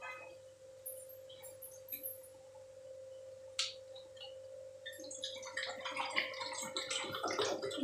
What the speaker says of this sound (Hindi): अब इसके अंदर डालेंगे हम ठंडा पानी